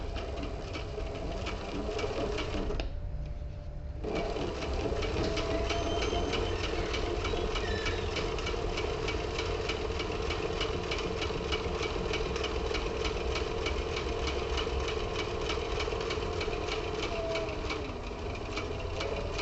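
A sewing machine stitches a leather tablet case with a continuous, steady mechanical drone and rapid repetitive ticking, broken by a brief pause near the start before running on evenly.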